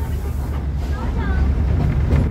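A toy train on the Matheran hill railway rumbles along steadily with a low, continuous drone and faint rattling, voices murmuring faintly beneath it.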